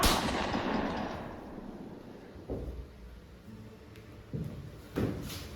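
A staged gunshot effect rings out in a high school class theatre play: one loud blast that fades out, followed by a few duller thumps.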